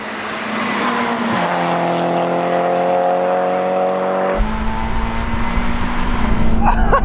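Racing car engines roar in a JDM drag race video game with a Mazda MX-5, Toyota 86 and Honda S2000, steady high-revving drones shifting pitch as gears change, loud and continuous with a brief tire squeal near the end.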